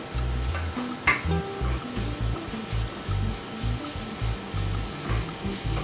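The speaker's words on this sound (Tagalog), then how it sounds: "Fry lang natin hanggang maluto tapos ilalagay natin yung coconut" Shrimp fry in a pan with steady sizzling, while a utensil stirs and scrapes in repeated close strokes against the pan.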